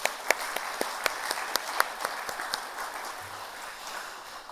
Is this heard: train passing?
no